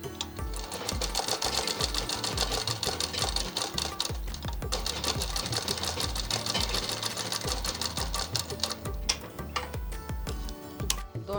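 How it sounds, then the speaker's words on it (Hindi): A sewing machine runs double stitching along the shoulder seam of an umbrella frock, a close, loud, rapid ticking rhythm that continues steadily with slight speed changes throughout. "ऊपर हिस्से पे डबल सिलाई करके दोनों पल्लों को जॉइंट कर लेंगे"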